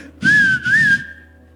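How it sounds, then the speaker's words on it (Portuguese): A person whistles a clear, bright two-part tune, two sustained phrases with a short gap, close and loud, trailing into a long fading note. "Eu queria saber assobiar que nem você."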